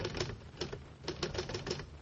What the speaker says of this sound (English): I'll type the expression out for you right now on my Underwood typewriter